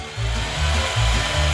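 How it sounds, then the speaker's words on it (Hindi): An electric drill runs steadily for over a second at close range, a sustained low whirring motor that swells slightly in pitch and loudness, with no talking over it. "मैं यहाँ सब ड्रिल करूँगी।"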